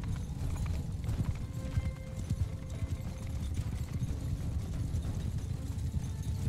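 Horse hooves clip-clop steadily and continuously across a Mount and Blade Bannerlord battlefield, a dense, busy patter of many riders at moderate distance with no talk over it.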